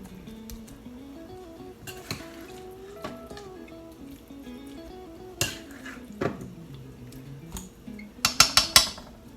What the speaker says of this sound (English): now we'll just spoon that over the tater tots